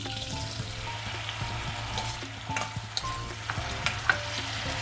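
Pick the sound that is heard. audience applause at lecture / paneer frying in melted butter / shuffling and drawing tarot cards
paneer frying in melted butter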